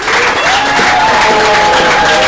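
Schoolchildren and audience at a quiz competition between two schools applaud a correct answer, a loud sustained burst of clapping with some crowd noise and cheering voices mixed in.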